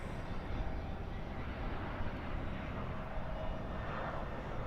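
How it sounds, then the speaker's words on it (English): An Airbus A319 arrives at Dallas/Fort Worth airport at night, its jet engines a broad, steady roar that holds at moderate distance throughout, with no voices over it. "Another Airbus A319."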